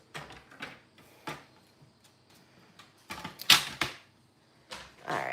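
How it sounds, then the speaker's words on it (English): Paper trimmer slicing foil card stock for a card front, a series of sharp clicks and brief scraping slides close by with quiet gaps, ending in a louder run of cutting and handling sounds. "I'm gonna trim it down so that it is card front"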